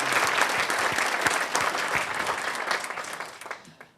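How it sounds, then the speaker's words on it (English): An audience at an education press conference claps together in a dense, steady burst of applause, close and fairly loud, which fades out over the last second. "Let's give them a round of applause."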